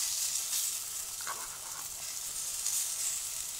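Steady, close sizzling hiss of syrniki frying in a hot pan, continuous crackle with no voices.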